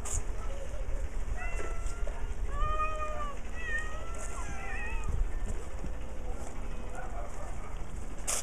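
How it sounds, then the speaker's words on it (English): Many cats meow at an animal shelter, several rising and falling cries in quick succession over a constant background hiss and low rumble, with more scattered meows later. "Look, there are 200 cats."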